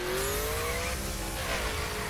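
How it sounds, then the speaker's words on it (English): A Mercedes-Benz 300 SLR Coupe in circuit spec from the video game The Crew revs a high-pitched V8 engine, the tone sweeping upward and holding steady, loud and close with no talking. "the high revving NASCAR V8 engine sound"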